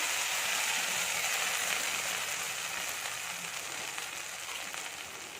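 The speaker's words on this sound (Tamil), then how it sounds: "கடுகு நல்லா பொரிஞ்சிருச்சு." Mustard seeds crackle and pop in hot oil, a dense steady sizzle with quick spluttering bursts, close by and gradually quieting.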